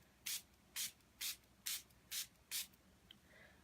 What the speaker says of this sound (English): I'm going to use my Stampin' Up! Spritzer, and I'm going to just spray it